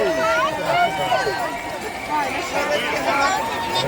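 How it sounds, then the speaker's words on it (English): Marathon crowd lining a street in Camden, London, a dense babble of many voices and shouts cheering on runners, loud and steady throughout, with whistles and higher calls rising above the hubbub. "Everyone cheering on their people."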